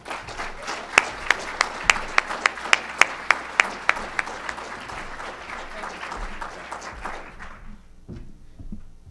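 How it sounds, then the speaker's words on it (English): An audience at a State of the State presentation applauds to welcome an assemblywoman, with a steady layer of clapping and a few crisp, rhythmic nearby claps before everything fades to near silence. "give her a round of applause."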